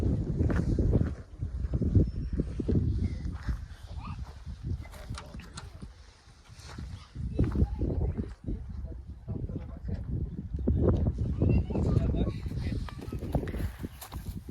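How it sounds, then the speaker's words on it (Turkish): Light wind blows over a high plateau in the Black Sea highlands, a low rumbling buffet against the microphone that swells and eases throughout, with someone talking over it. "Hafif rüzgar var ama hava çok güzel."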